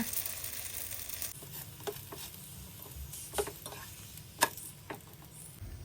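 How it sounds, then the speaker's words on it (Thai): Roti dough frying in hot oil in a pan: a continuous close sizzle with occasional soft clicks and taps as the bread is moved around, steady and moderately quiet, with no speech. "น้ำมันร้อนแล้ว วางแป้งโรตีลงไปทอดเลยค่ะ"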